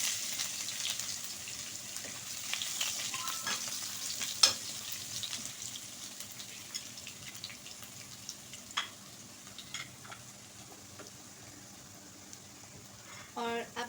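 Garlic sizzles while frying in a pan for moong daal, a soft, steady crackle with occasional stirring clinks, faint and close.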